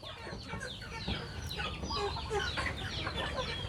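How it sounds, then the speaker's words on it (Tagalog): Chickens on a Filipino farm cluck and call steadily in a dense, busy chorus at moderate distance, with a faint background voice now and then. "Yan yung manok natin."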